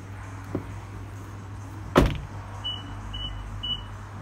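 A 2017 Nissan Qashqai 1.2 DIG-T gives three short, evenly spaced warning beeps for an ignition left on, following a single sharp door thud, with faint background hum throughout.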